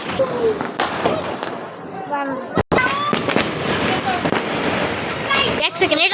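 New Year fireworks and firecrackers burst in dense, rapid succession with sharp pops, crackles and booms, some whistling rockets rising, while someone talks excitedly throughout.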